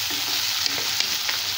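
Tomatoes sautéing in a pan, a brief, close, steady sizzle with a couple of light stirring taps.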